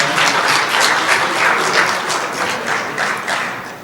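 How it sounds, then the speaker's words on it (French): Steady, loud audience applause at a year-end ceremony for foreign students in Béjaïa, a continuous wash of many hands clapping together without pause throughout. "Applaudissez pour lui, s'il vous plaît."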